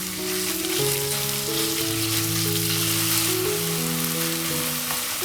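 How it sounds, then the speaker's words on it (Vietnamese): Minced pork sizzles and spits in an oiled pan with fried shallots, a dense, even crackle held up close throughout, with no one talking. "Sau đó thì cho thịt băm vào, dần cho thịt tơi ra."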